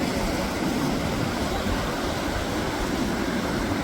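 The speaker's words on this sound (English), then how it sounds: "The wind's definitely strong enough today." Strong wind at an Atlantic beach in Florida, roaring steadily with surf mixed in and buffeting the microphone, loud and continuous with no pauses.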